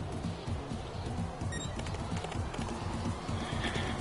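A unicorn in the motorbike video game Trials Fusion, heard as a loud neigh followed by continuous galloping clip-clop hoofbeats over a dense, steady layer of game sound.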